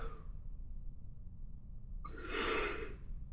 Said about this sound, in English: Yawning again.